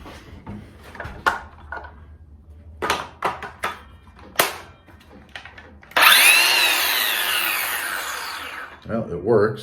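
A Ryobi One+ 18V 6.5-inch cordless circular saw cuts through cardboard in one loud, steady whirring burst of about three seconds. Clicks and handling knocks come before it, and a voice follows.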